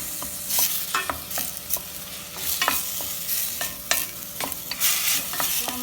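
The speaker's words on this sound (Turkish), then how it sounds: "Biberimiz kavruldu." Peppers and onions sautéing in a pan with a steady sizzle, broken by repeated scraping strokes of a spatula against the pan in an irregular rhythm, close up and with no talk.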